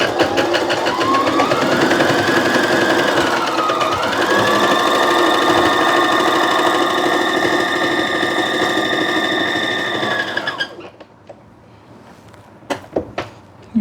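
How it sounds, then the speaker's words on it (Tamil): A Brother JA1400 sewing machine stitches steadily and loudly for about ten seconds, its motor whirring with rising pitch, then stops, leaving a few light clicks. "இப்போ இதை எடுத்து கீழே விட்டுட்டு இப்போ தைக்க போகிறோம்"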